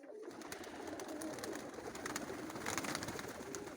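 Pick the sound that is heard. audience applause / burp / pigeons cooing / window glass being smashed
pigeons cooing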